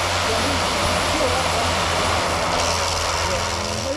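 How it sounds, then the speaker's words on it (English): Aircraft engine drone from a plane flying near a mountain landing strip at Denali, a steady loud hum filling the whole stretch with broadband noise, voices faintly underneath. "We got one plane coming over here."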